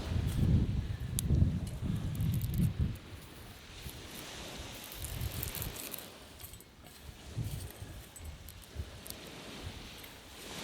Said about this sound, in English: The wind is becoming quite strong again now.